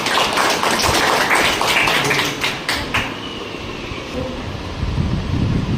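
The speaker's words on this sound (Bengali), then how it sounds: "জোরে হাত তালি একটা" Crowd at a district marketing management meeting clapping loudly in a dense burst for about three seconds, which then fades into a steady, windy background noise.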